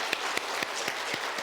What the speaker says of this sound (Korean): 우리 이분들 다 한번 축하 한번 박수로 한번 드리겠습니다.